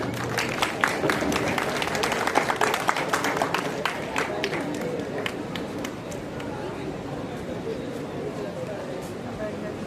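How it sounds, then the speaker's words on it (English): An audience cheers and claps for cadets at an investiture ceremony, a dense, steady wash of clapping with sharp hand-claps popping out, loudest early and holding on throughout. "Keep cheering for them, please."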